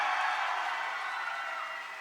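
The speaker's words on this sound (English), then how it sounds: "Cheer again as soon as he comes out." At a Dragon Ball cast panel at Anime Pasadena 2024, an audience cheers and applauds as voice actor Sean Schemmel, the voice of Goku, walks out. It is a dense, steady crowd roar that slowly fades toward the end.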